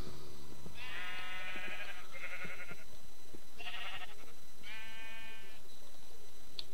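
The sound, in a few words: sheep bleating in video game Minecraft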